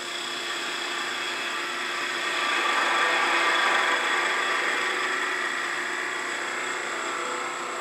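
A skew chisel cuts on a wood lathe while turning Christmas tree ornaments: a steady whirring hiss that swells briefly in the middle as the tool bites, then eases back.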